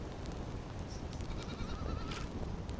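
A goat bleats in the survival video game Survival Fountain of Youth, a short wavering cry rising over a constant ambient game background, moderately close.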